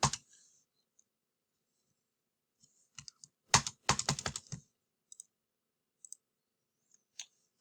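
A computer mouse or keyboard clicks during a slide presentation: scattered sharp clicks, then a quick burst of rapid clicking around the middle, followed by a few more isolated clicks amid near silence.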